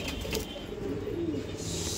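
Saharanpuri pigeons of a breeding pair coo softly and continuously close by, a low murmur of calls with no talking over them.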